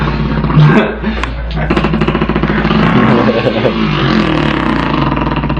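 A human voice imitates a dirt bike engine by mouth, a loud, buzzing rev that rises and then holds a steady growl for several seconds, close to the microphone.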